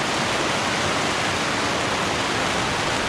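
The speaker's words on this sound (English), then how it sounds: "Woken up in the middle of the night, major downpour." Heavy nighttime downpour at a campsite with a Landcruiser and Jayco camper, a loud, dense, unbroken roar of rain filling every moment with no pauses or voices.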